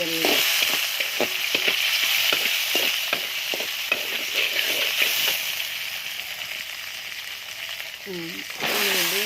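Fish dropped into hot tempered oil sizzles with a steady, loud frying hiss, broken by clinks of a utensil and faint stirring sounds close by.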